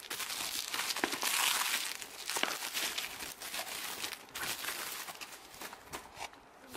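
Bubble wrap crinkles and crackles as it is peeled off a Moto G 3rd generation phone box, a close, continuous rustling handled by hand with no talk.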